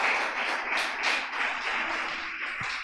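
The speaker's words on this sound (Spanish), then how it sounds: "bríndele al Señor su mejor aplauso" Church congregation applauding together during a Spanish-language service, a steady wash of many hands clapping at moderate distance for a few seconds.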